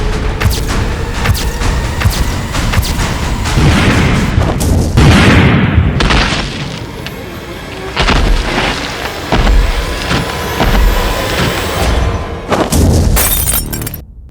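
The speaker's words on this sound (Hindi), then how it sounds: "इस बिल्डिंग में अलग अलग जगह लगभग 1000 विस्फोटक लगाए हैं" A loud, sustained series of blasts and crashing debris from a building demolition with about 1000 explosive charges, rumbling booms and shattering noises rolling on for several seconds.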